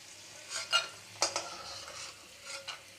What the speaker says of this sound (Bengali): বাদামটা ভেজে তুলে নিই